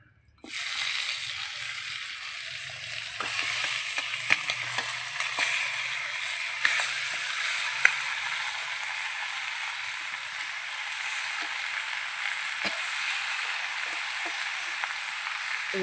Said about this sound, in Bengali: এই যে মাখা মাংসটা আমি এবার দিয়ে দেবো কড়াইতে।